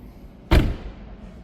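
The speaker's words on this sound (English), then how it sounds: "let's shut the door and we'll go to the driver's side next." A 2026 BMW iX xDrive60 car door swings shut with a single solid, close thud, followed by a brief low resonance and quiet room tone.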